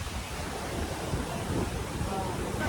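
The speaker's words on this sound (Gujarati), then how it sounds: "તમે જુઓ દરિયાના મોજા." Sea waves break on a rocky island shore at Tobermory, Canada, a dense, continuous roar of surf mixed with wind buffeting the microphone, close and loud throughout.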